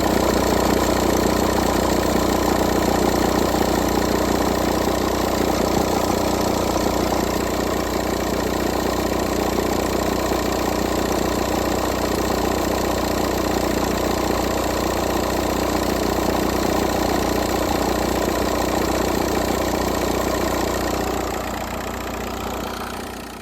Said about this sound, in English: I'll attach a video where the thing is idling and you can see exactly how much movement's at that tensioner.